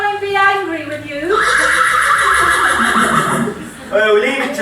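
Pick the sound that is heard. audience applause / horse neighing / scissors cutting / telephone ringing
horse neighing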